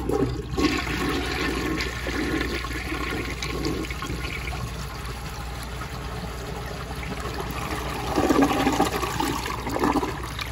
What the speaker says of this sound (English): And I'll do another flush like this.